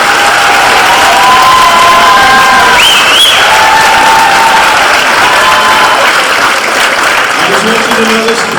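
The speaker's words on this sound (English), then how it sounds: "if we can give them another round of applause" A school honor roll assembly audience of freshmen and sophomores claps loudly and steadily, with cheers, whistles and shouted voices rising over the continuous applause.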